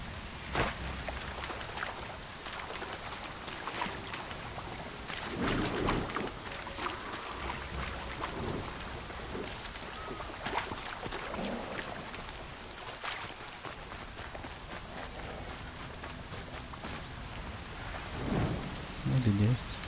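Rain patters steadily in the video game Horizon Zero Dawn, with rumbles of thunder rolling through at intervals and a brief low vocal sound near the end.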